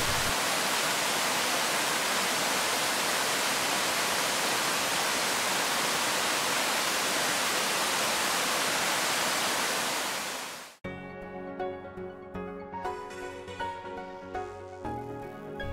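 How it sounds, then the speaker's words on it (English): A powerful two-tiered waterfall in the Southern Highlands of NSW crashes down a mountainside as a steady, dense roar for about eleven seconds, then cuts abruptly to quieter layered music. "This two-tiered waterfall cascades down the mountainside with such force you can really feel the energy"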